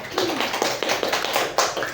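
Clapping from a class or seminar audience, a loose patter of hand claps spread across two seconds at moderate level, with some faint voices underneath.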